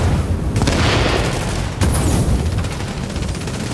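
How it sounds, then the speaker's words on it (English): Heavy booms and blasts from grenades exploding in a video game, with a sharp burst near the two-second mark over a dense, continuous rumble of combat. "Man, enough with the grenades."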